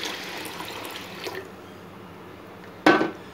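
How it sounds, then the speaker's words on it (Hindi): Water is poured into a pot of masoor daal before pressure cooking, a steady close splashing flow with a brief louder splash near the end, no talking. "अब इसमें मैं डाल दूँगी पानी,"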